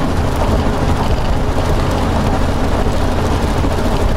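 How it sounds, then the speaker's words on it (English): Steady heavy rain drumming loudly and continuously, a dense wash of noise with no pauses, heard while driving westbound toward Baton Rouge. "We have a little rain again."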